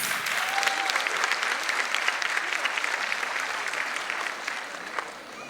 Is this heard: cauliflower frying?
no